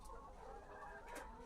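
Chickens on a poultry farm clucking faintly in the background, a few soft, scattered clucks over a low steady room hum, with no voices.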